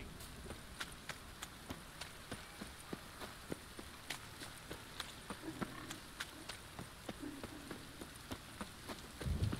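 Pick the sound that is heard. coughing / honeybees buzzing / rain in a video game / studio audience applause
rain in a video game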